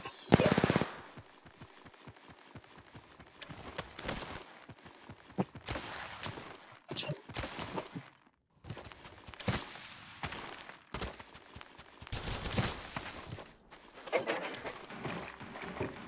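Gunfire from a video game shootout comes in short automatic bursts and single shots, split by brief quiet gaps, some volleys loud and close and others lighter, with a voice heard now and then.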